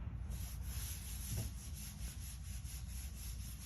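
Close, continuous gritty rubbing and scraping over heavily contaminated car paint, a coarse abrasive hiss repeating in quick back-and-forth strokes.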